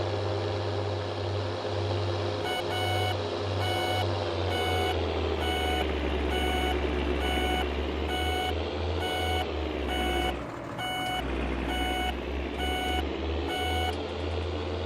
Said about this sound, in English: the indicator on this is so awful